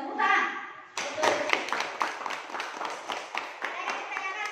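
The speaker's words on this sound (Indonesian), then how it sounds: "Tepuk tangan" A classroom audience claps in a short burst of scattered hand claps after a lesson presentation, following a few spoken words, with uneven taps continuing and fading near the end.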